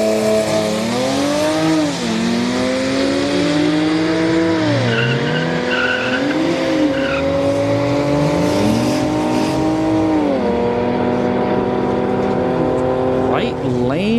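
An Audi and a Golf R launch side by side in a street-night drag race at Orlando Speed World, engines revving hard and sweeping up through gear changes with tire squeal, loud and sustained amid crowd noise.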